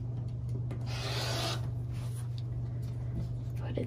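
Quilt fabric square being cut on the diagonal, a steady scraping, rasping cut held close over a constant low electrical hum, with a brief louder stretch near the start and softer rubbing afterward.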